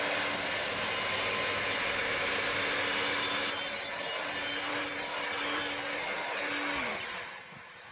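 A miter saw set to about 10 mm depth cuts a dado into a wooden workpiece, making one loud, steady whine and grind across a plank for about seven seconds before the blade winds down at the end.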